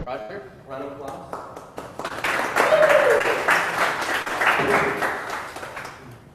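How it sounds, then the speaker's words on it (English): An audience at a tech talk on building websites gives a round of applause for the speaker, a dense burst of clapping rising after a brief voice and continuing steadily to the end. "Rodger, round of applause."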